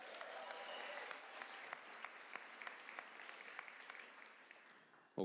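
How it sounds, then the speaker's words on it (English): At a graduation ceremony, an audience applauds a singer after her performance. Moderate, continuous clapping from a crowd thins out toward the end, and a single loud knock or thump follows. "Give her another round of applause"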